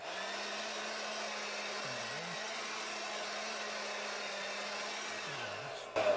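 A blower blows dust off inside a garden room build, giving a steady, continuous airy roar with a low hum that dips in pitch briefly twice, then cuts off near the end.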